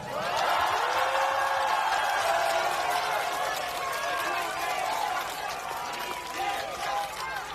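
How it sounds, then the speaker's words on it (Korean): Outdoor political campaign rally crowd in Mapo, Seoul, cheering and applauding loudly, with a dense roar of voices and clapping that starts strong and stays steady, shouts rising above it. "큰 우렁찬 함성과 박수를 부탁드립니다."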